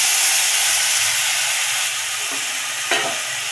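Cut mango pieces, with their stones, go into a pan of tempering that has been fried until red with garlic. A steady, loud broad sizzle and hiss continue throughout, with a brief sharp clatter near the end.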